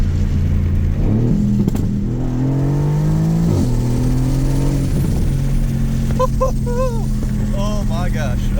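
A purpose-built race car accelerating hard, engine pitch climbing through gears with a brief shift break, loud and close from inside the cabin, a voice briefly heard over it.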